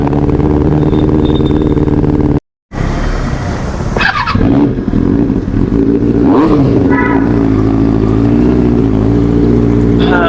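A jeep travelling along a road toward Madhavara, its engine loud and close with a continuous roar that shifts in pitch as it speeds up and slows. The sound cuts out completely for a moment near the start.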